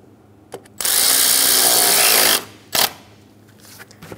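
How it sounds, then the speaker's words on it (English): A power tool, likely a drill or driver, tightens the hose clamp on the air intake of a 2014-2018 Chevrolet Silverado 1500 5.3L V8: one steady whirring burst of about a second and a half, close and loud, framed by a few clicks. "Snug down the clamp."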